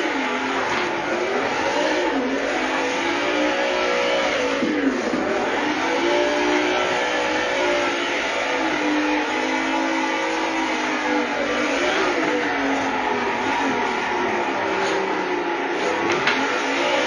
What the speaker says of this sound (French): Donc ici on peut venir faire drift non-stop, drift pas cher.